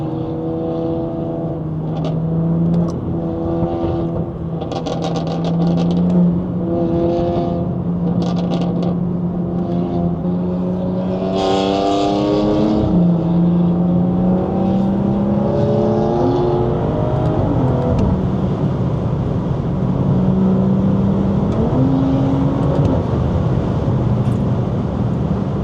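Loud, close engine pulls from a BMW 340 with a B58 engine and FBO Stage 2 exhaust on the highway, the pitch climbing steadily through repeated gear changes with a raspy edge.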